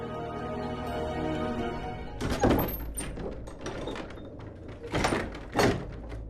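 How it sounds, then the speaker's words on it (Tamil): A door at a house is pulled open with a couple of dull wooden thunks, set against steady background music, the knocks arriving a few seconds apart. "போ, போய் கதவை தர."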